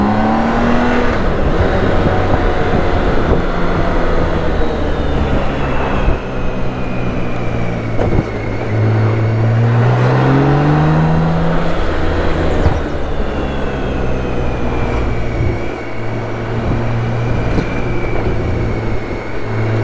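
A BMW K1600 GTL motorcycle on new Michelin Road Pilot 6 GT tyres accelerates hard on tight, rough roads, its engine rising through repeated gear changes in a loud, close, continuous roar.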